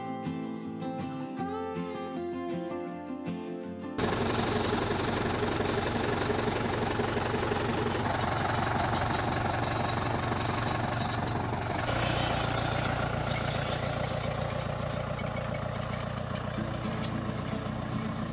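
A tractor engine chugs steadily and loudly in a vineyard while stringing trellis wires, running on without pause after a brief quieter start, with a slight shift in pitch partway through.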